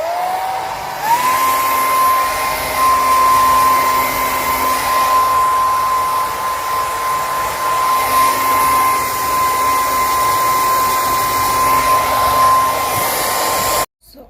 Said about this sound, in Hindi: अभी मैं थोड़ा सा लगाऊंगी अपने बालों में ड्रायर, बालों को सुखाने के लिए।